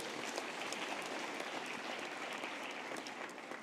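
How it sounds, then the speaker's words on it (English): An audience in a graduation hall at a university ceremony applauds, a dense steady patter of many hands clapping throughout, moderately distant and without voices. "Can we give all these colleagues a big round of applause?"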